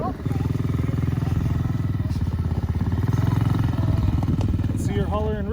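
A new ATV engine close by, idling then revving with gas and shifted into reverse, giving a steady throaty rumble that swells under brief background voices.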